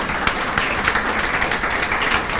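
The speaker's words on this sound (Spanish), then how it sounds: "un aplauso al Señor" A church congregation applauds in praise of the Lord, a steady, dense wash of many hands clapping that carries evenly through the whole stretch without a break.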